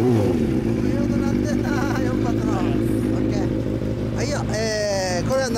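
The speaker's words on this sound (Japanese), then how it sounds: "あのエンジン音聞かせてもらえる？" A Honda Jade MC23 motorcycle engine idles loudly and steadily up close, a throbbing low rumble with a few brief revs rising over it.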